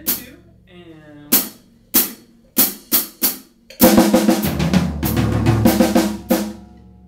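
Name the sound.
drum pattern from snare drum to floor tom to second tom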